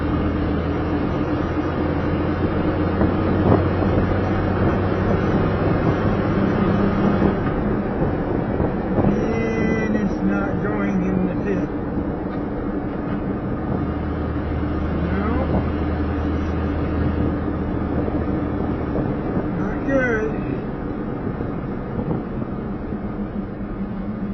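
Car engine drones steadily while driving, with the pitch dropping and climbing through several gear changes between second, third and fourth after a shift improver kit install; constant road and wind noise throughout.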